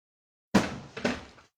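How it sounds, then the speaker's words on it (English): A phone falls and lands with two quick, close thuds half a second apart after a moment of silence. "Oops, my phone's just dropped off."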